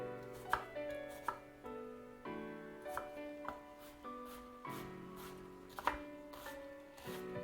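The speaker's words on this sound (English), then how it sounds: "I'm not properly super tiny dicing them like I would normally" A knife dicing onion on a cutting board, crisp rhythmic chops about twice a second, each landing with a sharp tap, close and clear with nothing else heard.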